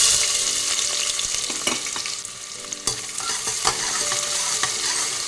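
Onion and whole garam masala fry in hot oil in a pan, a steady close sizzle broken by stirring clatter and occasional scrapes of a spoon, with no talking.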